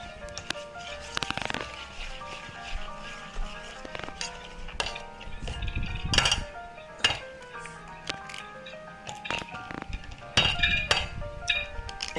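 Custard cake batter being mixed in a bowl with vegetable oil, giving soft clinks, wet squishes and utensil taps at an uneven pace, fairly close and quiet, with a musical tone underneath.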